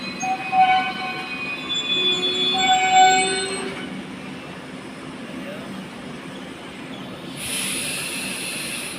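Netravati Express pulling into Kayamkulam Junction, an Indian railway station: a steady rumble of rolling coaches with high wheel squeals and tonal whines, a brief horn-like tone near the end, under a faint voice.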